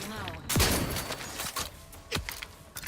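Shotgun firing slugs in The Outer Worlds, a sharp loud blast with a falling whoosh followed by a second shot a moment later, plus lighter thumps and clicks around them.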